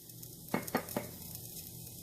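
A few clinking taps of a spoon against a pan ring out while chopped jalapeno chili sizzles softly in oil for oats sprouts soup, with a steady low frying hiss underneath.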